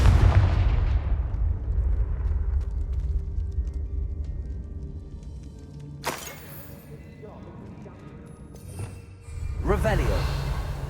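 A Confringo fire curse in Hogwarts Legacy opens with a heavy booming burst that rumbles and fades. Two more sharp explosive cracks follow later, mixed with game noise and a voice.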